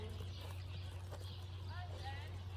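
Several horses on a group canter ride make steady hoofbeats over a low engine-like hum, while a person talks over the rhythmic clip-clop and a faint whinny.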